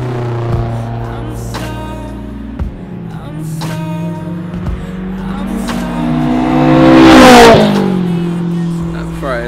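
A Honda S2000 engine revs in steady harmonic layers, climbing to a loud, sweeping peak near the end with a sharp high whine, with a few brief clicks along the way and speech-like sounds mixed in.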